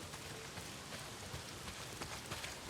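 Steady rain pours down in the video game Days Gone, making a faint, even hiss with no break and no speech.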